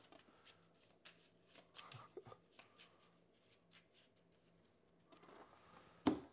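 Cards for a Kingdom Death board game are shuffled by hand in close, soft riffles and flicks, faint and irregular, ending with a sharper tap, no talk heard.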